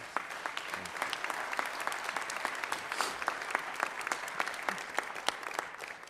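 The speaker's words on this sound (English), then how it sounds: "Join me in a warm round of applause." Audience applause at a college presidential investiture ceremony, a steady, even patter of many hands clapping throughout, moderately loud and sustained without voices.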